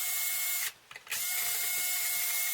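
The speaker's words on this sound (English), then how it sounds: "Using the driver here, the power driver." A power driver loosens the strings on a 2021 Fender Player Stratocaster Plus Top, a steady high whirring buzz that cuts out briefly in the middle and then resumes.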